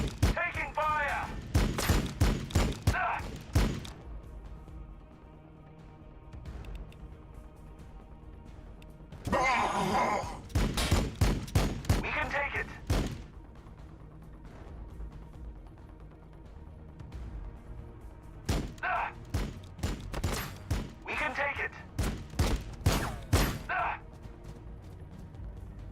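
Gunfire in the Warhammer 40K Battlesector video game: loud clustered volleys of rapid shots come in three bursts, separated by quieter stretches of low rumble.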